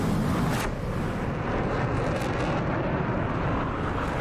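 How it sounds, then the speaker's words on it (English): A jet in full afterburner climbing steeply in the DCS World flight simulator, a loud, steady roaring rush filling the whole moment, close and without pause. "Both pilots then select full right afterburner, and then, crossing center point, pull into an aggressive 60-degree climb"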